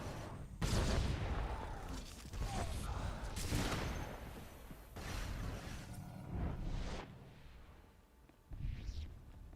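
Shotgun fire in Star Wars: The Old Republic during a Maelstrom Prison dungeon fight, a series of sharp booming blasts at irregular intervals with whooshing effects between them, fairly quiet overall.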